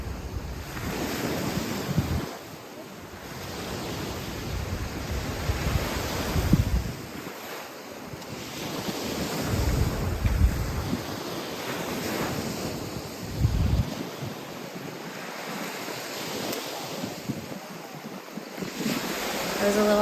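Ocean waves surge and break on a beach in strong wind, with steady gusty rushing and recurring swells. Wind buffets the microphone throughout.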